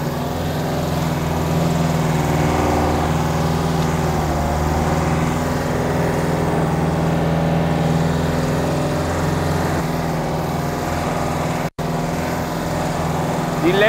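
A Unimog U411 Cabrio drives off-road through steep, muddy swamp ground. Its engine holds a steady, close, droning note with strong harmonics, broken by a brief dropout near the end.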